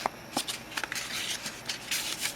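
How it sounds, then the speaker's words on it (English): Paper bag flaps being folded and creased by hand for a Christmas scrapbook album, giving soft, repeated papery rustles and crisp shuffling swishes close up, with no one talking. "You're going to fold them both flap down and this piece flap up."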